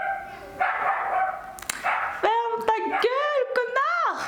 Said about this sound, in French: Voilà, la fameux chien.